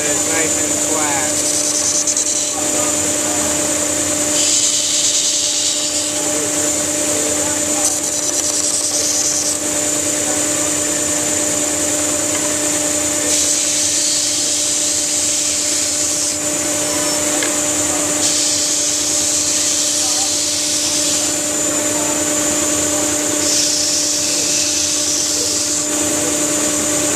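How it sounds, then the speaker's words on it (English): A power sander works over a piece of wood, a continuous high whirring buzz with rough scraping texture, pulsing in level as it moves across the surface; a voice speaks intermittently beneath it. "We're just going to sand each side of the wood"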